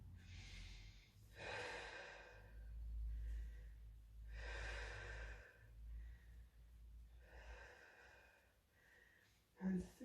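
Slow, rhythmic breaths during a core workout: about four long, soft exhales close to the microphone, evenly spaced with quiet pauses between them and a brief sharp sound at the end.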